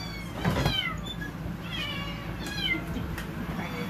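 Young bottle-fed kittens meow repeatedly, several thin high cries in quick succession, some overlapping, close by against a quiet room background.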